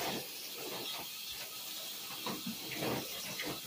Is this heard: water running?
yes